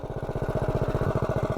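Predator Ghost go-kart engine fitted with a Fire 265 cam and a PC carb, running steadily with a fast, even chugging pulse, close and loud with no pauses.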